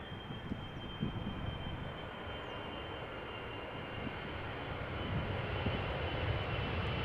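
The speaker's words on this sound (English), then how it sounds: "777-300 arriving from Cape Town." A Boeing 777-300 airliner arriving from Cape Town passes at Amsterdam Schiphol Airport, its broad jet roar steady and fairly distant, swelling slightly toward the end.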